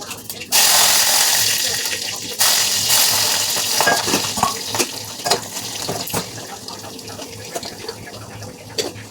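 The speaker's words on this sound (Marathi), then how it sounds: "हिरव्या मिरच्यांचे तुकडे केले होते आणि आता फोडणीला टाकूया." Chopped green chillies and crushed garlic dropped into hot tempering oil in a home kitchen, bursting into a loud sizzle that settles into steady crackling with scattered pops and stirring, while a voice talks over it.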